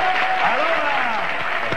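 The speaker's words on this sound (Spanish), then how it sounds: "aplauso fuerte" Loud applause from a television studio audience during a 1995 Spanish tribute programme, a continuous wash of clapping with a voice and music-like tones running over it.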